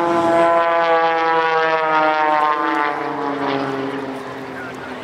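Aerobatic propeller airplane at an air show, its engine droning loud and steady as it spins and dives, the pitch sliding slowly lower, with an announcer talking over it.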